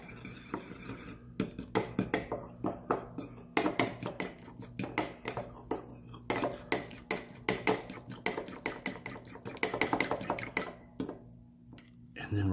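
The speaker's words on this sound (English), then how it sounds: "Mix that all together." A utensil stirs and scrapes leftover mixture of holiday leftovers seasoned with oregano in a bowl. The clinks and knocks come quick and rhythmic at close range, with faint talk in the background.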